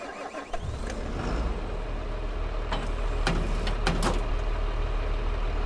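A tractor in Farming Simulator with the Horsch planter DLC starts up, then rumbles steadily at idle with a deep, even drone, a few clicks and knocks of cab controls over it and no talk.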